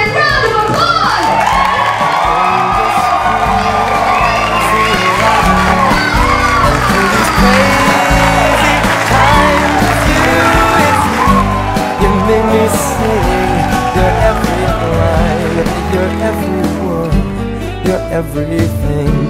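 A wedding crowd cheers and claps loudly and continuously, with whoops and high excited shouts rising through a dense roar of voices.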